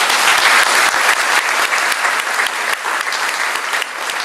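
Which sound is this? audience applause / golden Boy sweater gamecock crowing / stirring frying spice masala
audience applause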